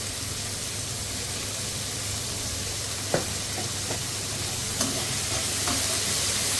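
A paneer and vegetable snack mixture with capsicum and salt sizzles steadily in a pan, with a few distinct spatula scrapes and taps against the metal over the continuous frying hiss.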